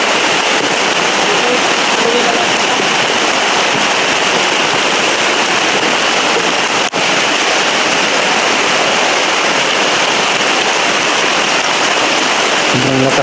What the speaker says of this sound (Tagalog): Lakas po talaga ng ulan mga tol